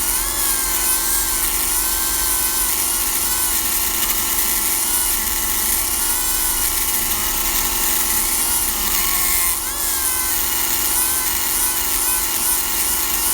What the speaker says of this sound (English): as I'm grinding away, I'm doing it at a slight inwards angle, which gives it the inwards cut